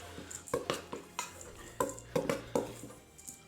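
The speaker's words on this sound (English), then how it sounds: "Okay, so almonds in, chopped almonds in. Give them a stir." Chopped almonds stirred into a crumbly cookie dough mixture in a bowl, giving a series of irregular scraping and light clinking knocks from the utensil, fairly quiet with short gaps between strokes.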